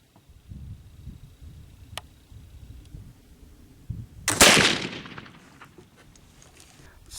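A single sharp gunshot from a .44 Special black powder reload cracks loudly outdoors and trails off into a fading echo, with quiet rustling before it.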